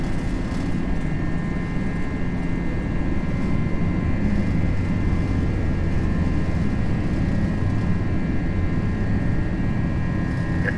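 An Airbus A321 jet takes off in a flight simulator, with a steady, dense engine roar and a high whine held evenly throughout, with no voices.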